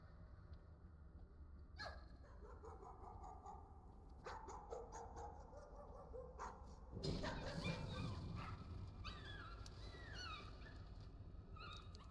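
Dogs bark in the video game Layers of Fear, with several sharp yips and barks over a dense, rumbling ambient background, some distant and some closer, with no talk.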